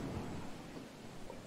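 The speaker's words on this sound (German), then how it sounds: "Oh, scheiß Gewitter." Thunder from a storm outside rumbles steadily as a broad, continuous roar with no clear break, heard alone and moderately loud on a windy day.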